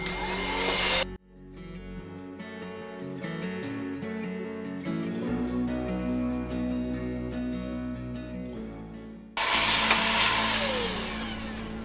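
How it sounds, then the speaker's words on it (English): A loud vacuum cleaner roars steadily while cleaning out a vintage Pepsi clock, cuts out for several seconds while a harmonic, music-like tone fills the gap, then the vacuum roar returns. "So let's vacuum it out."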